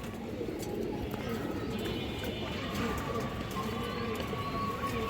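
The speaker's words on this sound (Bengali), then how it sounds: "একটা মুসলদম নর কবুতর" Male Musaldom pigeon at a farm cooing softly and steadily for five seconds, amid a constant hum of background noise and a faint, far-off train or whistle tone.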